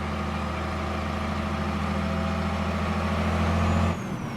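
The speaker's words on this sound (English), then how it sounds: "That's what this engine brake sounds like." Heavy truck engine brake, likely a game truck simulation, rumbling low and steady for about four seconds before cutting off, with a faint higher whine near the end.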